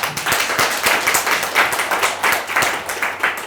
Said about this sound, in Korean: 뜨거운 박수로 이렇게 환영을 해주셨고요.